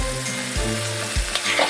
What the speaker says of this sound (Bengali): এবারে এতে আমি ডুমো ডুমো করে কেটে রাখা আলুগুলো দিয়ে দেবো